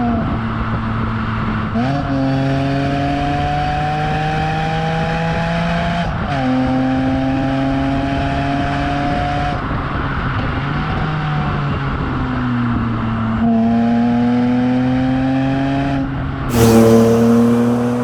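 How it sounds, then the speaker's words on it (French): A BMW M3 E46 straight-six with a Super Sprint exhaust pulls through the gears, its rising engine note climbing steadily and dropping at each of four shifts before a sharper burst of revs at the end, loud and continuous with no talk. "cet échappement Super Sprint, tu vois, il est pas assourdissant"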